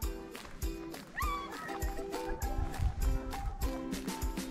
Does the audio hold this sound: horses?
yes